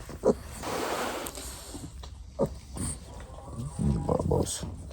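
Two small pigs on a farm grunting and snuffling close by, short soft oinks scattered over a steady background hiss, with a voice talking over them.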